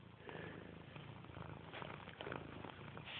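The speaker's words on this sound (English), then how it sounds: "Quit purring." A gray cat purrs continuously up close, a steady low rumbling drone that runs through the whole clip without pause.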